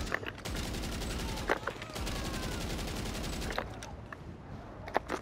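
Gunfire in the GTA 5 Online survival mode, a dense run of rapid automatic shots with a few louder single bangs, close and loud. A voice speaks briefly over it.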